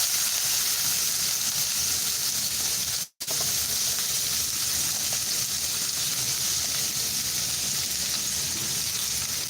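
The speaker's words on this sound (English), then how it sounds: "So I'm going to cook my eggs with pepper and onions." Eggs frying in a pan with pepper and onions, a loud continuous sizzle and crackle that cuts out for a split second and then carries on steadily to the end.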